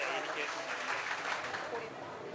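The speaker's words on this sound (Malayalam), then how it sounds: "ഒരു കൈയടി കൂടി അദ്ദേഹത്തെ സ്വാഗതം ചെയ്യുക." Audience applause at an Onam celebration hall in Dombivli welcomes a speaker to the stage: a steady, dense wash of clapping that holds evenly for a couple of seconds with no voices over it.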